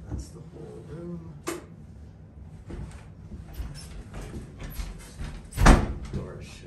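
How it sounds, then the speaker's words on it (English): A door in a small room of a house is shut, with a sharp thump near the end following scattered handling noises and faint room sounds. "Door shut."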